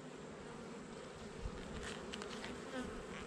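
Honey bees buzz steadily during a hive inspection, a dense continuous drone of many insects close by, faint and even throughout with no talk.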